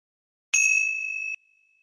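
A single meditation bell is struck once, with a bright clean attack and a pure ringing tone that sustains for under a second before cutting off into silence.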